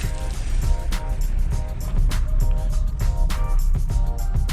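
Steady rushing water from a roadside waterfall on the Jispa to Leh route in Ladakh roars throughout, a dense continuous wash of cascading spray with faint knocks and rumble mixed in.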